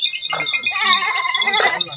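Goats bleat close by in a village as the herd approaches, several quavering calls overlapping within a couple of seconds, with some voices mixed in.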